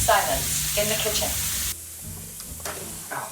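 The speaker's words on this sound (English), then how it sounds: "We're gonna put each of these into the skillet, fry it on each side for about 5 minutes." Tempeh pieces frying in a hot skillet, a steady broadband sizzle that runs loud and close, then drops lower and quieter partway through, with faint kitchen movement.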